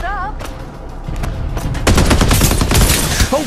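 Rapid automatic gunfire from the battle royale shooter Farlight 84 erupts in dense, loud bursts that grow heavier midway, with game sound effects and a brief voice line mixed in.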